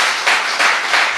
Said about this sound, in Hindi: इस लाइन पे तालियां चाहूंगा